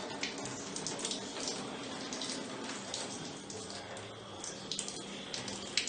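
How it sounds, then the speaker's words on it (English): Water runs steadily with a hissing, splashing spray, continuous and moderately loud, with scattered drips and patters throughout. "I'm going to just turn this water on and make sure that the water is actually shut off"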